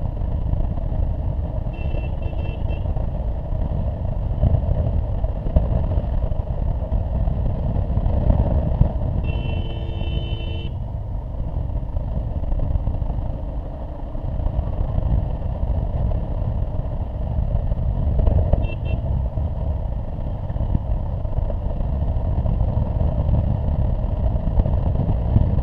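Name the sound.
vehicle driving on a mountain road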